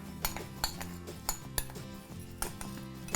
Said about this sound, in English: I just take the spoon and I mix it together